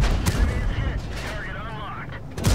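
Heavy tank cannon fire in World of Tanks, a T57 Heavy American tank battle against an AMX 30B: booming gunshot blasts at the start and end of a continuous rumbling battle mix, with a commentator talking over it.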